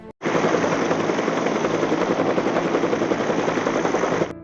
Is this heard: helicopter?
yes